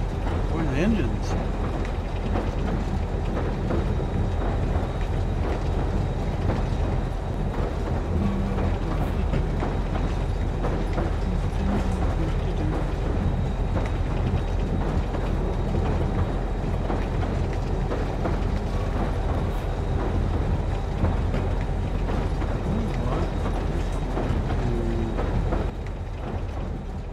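Steady rumbling train engines and rail cars in the video game Rust, continuous and droning with faint clacking, under someone talking throughout.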